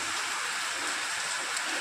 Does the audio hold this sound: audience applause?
no